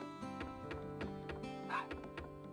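Pug barking in The Dog Island game, a series of soft, evenly spaced yips and woofs over steady background music, fairly faint and close.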